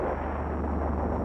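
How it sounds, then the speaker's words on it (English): Mortar rounds exploding near a hut at a military camp make a loud, deep, sustained rumbling blast that fills the short moment, with no clearly separate bangs. "And suddenly there were 2 loud explosions."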